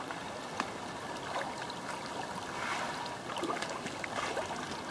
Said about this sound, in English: Have a little dam around it to channel the water through the sluice box.